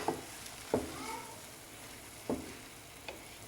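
Long beans being stirred in a pan for a Kerala thoran, with a few distinct scraping strokes over a low, steady cooking hiss.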